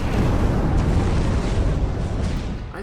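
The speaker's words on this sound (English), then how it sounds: "I thought he wouldn't do that AoE fire explosion if I was close." A loud, roaring fire explosion from a boss's area attack in a video game, one sustained booming blast with a rumbling low end that gradually tails off.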